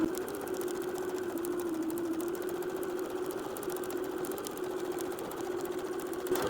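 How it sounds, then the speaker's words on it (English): A sewing machine stitches a seam in fabric for a heart-shaped mobile, its steady motor whir running without a break, close and even, with no voices. "So I'm gonna start sewing at one of my marks"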